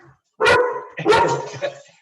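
Two dogs bark in short bursts, two close loud barks a half second apart followed by a softer yip, heard indoors during an online webinar.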